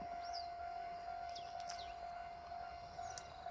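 Japanese railroad crossing with a steady high warning tone ringing alone at moderate distance as a train approaches, with faint rumble underneath.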